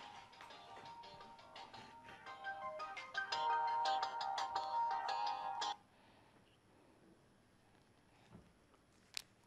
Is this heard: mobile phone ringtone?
yes